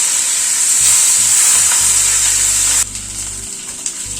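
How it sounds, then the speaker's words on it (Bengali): Flipped fish pieces frying in mustard oil, a loud close sizzle that suddenly drops to a quieter, steadier crackle partway through, with a light clack of a utensil near the end. "মাছগুলো একটা পিঠ হয়ে যাওয়ার পরে উল্টে দিচ্ছি।"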